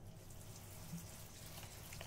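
Shower water runs steadily in a video game, a faint, even hiss of spray with no breaks and no voices.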